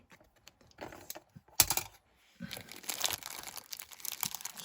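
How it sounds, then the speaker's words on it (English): Packs of 1991 Flair football cards are cut open up close, with sharp crinkles, snips and rustling wrapper sounds in uneven bursts, growing busier toward the end, and no talking. "I'm going to cut these open and see what we get on those cards."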